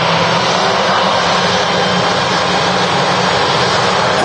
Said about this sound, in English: this EasyJet just coming from Rome